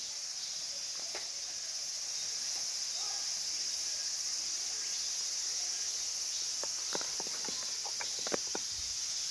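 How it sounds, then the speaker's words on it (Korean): A dense, loud drone of large brown cicadas fills the air on Cheonmasan mountain, South Korea, in August, steady and unbroken, with a few faint clicks and taps scattered near the end. "아, 여기 유지매미가 엄청 많네"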